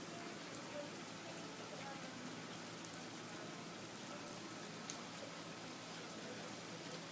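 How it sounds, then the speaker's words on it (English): Heavy rain pours down in a dense, steady hiss of countless drops striking surfaces, continuous and even throughout with no pauses. "It's raining so hard."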